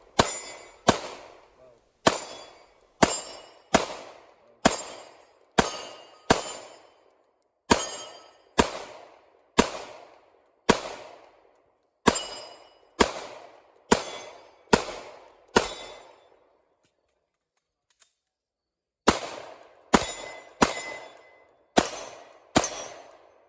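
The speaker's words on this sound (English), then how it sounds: "And then we engage some close pistol steel." At a two-gun match, pistol shots ring close steel targets in quick, sharp reports with metallic clangs, about twenty in two runs separated by a short pause, loud and near.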